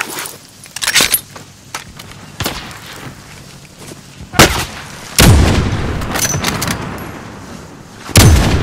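Gunfire in Call of Duty: Modern Warfare, with a handful of sharp, loud single shots spaced irregularly across a busy background of rattling and clatter.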